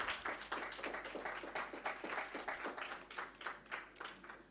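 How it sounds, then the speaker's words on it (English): Audience applause at a summit fills the space after a group photo call, a steady wash of many hands clapping with distinct individual claps, heard at moderate distance and fairly quiet. "A huge round of applause again, everyone."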